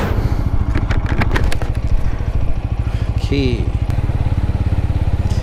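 A TVS Apache motorcycle engine runs steadily while being ridden, a close, loud, even putter with a constant rhythm, and someone briefly speaks over it.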